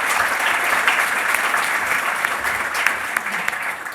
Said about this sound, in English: I'd like to have a round of applause before we move to our closing statements.